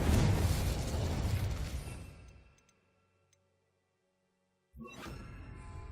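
A video game explosive spell detonates with a loud burst and rumbling boom that decays into silence, followed by another sharp effect kicking in near the end.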